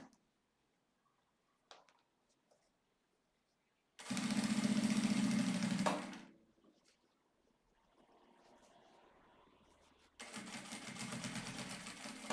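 Sewing machine stitching a seam along a leather wallet, one loud run of a couple of seconds after a quiet pause, then a softer steady whir and a second loud burst of stitching at the end.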